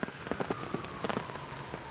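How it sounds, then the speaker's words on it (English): Steady rain falls at night, a dense patter of drops striking surfaces with scattered sharper hits, fairly close and even throughout, with no voices. "now it's raining down here tonight too"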